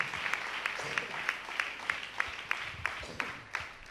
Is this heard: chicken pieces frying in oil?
no